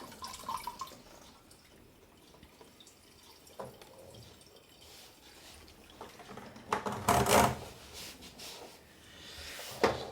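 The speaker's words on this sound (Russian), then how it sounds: "Сольем, наверное, литра 4." Water drains from a home aquarium during cleaning, with quiet drips and trickles at first and then louder splashing gushes of water, close by and with no speech.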